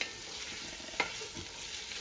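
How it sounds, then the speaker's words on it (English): Onions sizzling in a pot for Hungarian goulash, a soft steady frying hiss with a spoon scraping and stirring about midway, close and quiet. "now the onion is almost sauteed"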